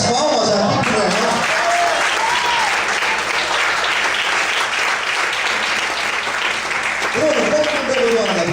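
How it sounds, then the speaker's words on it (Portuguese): A church congregation breaks into loud, sustained applause during a sermon, a thick wash of clapping with a voice speaking over it at the start and again near the end. "Cadê as palmas aqui pro meu irmão?"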